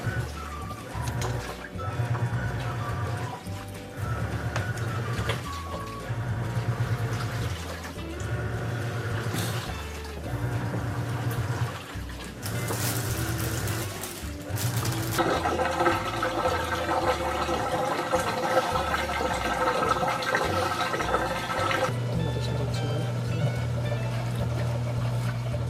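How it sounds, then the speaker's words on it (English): An RCA 7-pound compact portable washing machine runs its spin cycle, giving a steady, rhythmic mechanical hum with swishing water and rattling. The sound grows louder and denser partway through. "So this is the spinning cycle."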